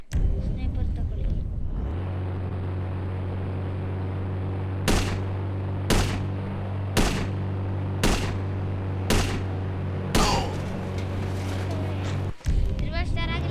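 Sniper rifle shots in the Indian Bike Driving 3D video game: six sharp, loud reports spaced about a second apart over a steady low engine-like drone, then a brief clattering tail as the background cuts out.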